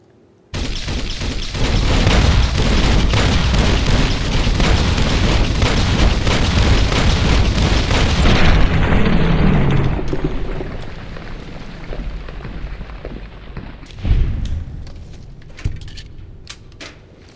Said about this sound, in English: a bunch of bullets later, he is dead